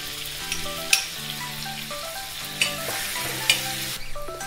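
Onions frying in oil and butter on a flat griddle for street-style pav bhaji, a steady close sizzle with a few sharper stirring scrapes and clinks over a background of layered music tones.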